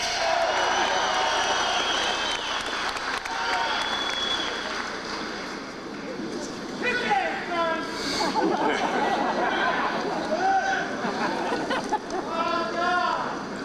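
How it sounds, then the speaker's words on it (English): A growing crowd at an outdoor Brass Roots rally in September 1994 fills the air with dense, continuous chatter and murmuring voices, with scattered bursts of clapping and calls rising over the steady hubbub. "This crowd is growing by the minute"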